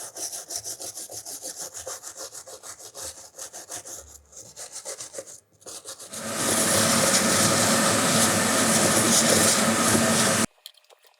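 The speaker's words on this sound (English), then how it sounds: "I'm going to clean it up with this brass brush and a little bit of light sanding." Rhythmic scratchy scrubbing strokes of a brass brush on CNC-carved wood, followed by a louder, steady rasping rub of light sanding that cuts off abruptly near the end.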